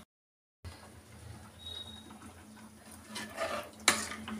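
A pot of mutton sherva is set into a pressure cooker: soft metallic scrapes and clinks of cookware, building toward a sharp metal knock near the end, close and moderately quiet with no talking.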